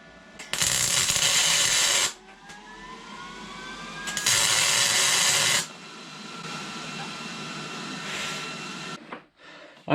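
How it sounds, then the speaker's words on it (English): Arc welding on a metal part at night crackles and buzzes in loud sustained bursts of a few seconds each, separated by quieter pauses with a low mechanical hum. "So what I'm doing right now is I'm just gonna weld this thing."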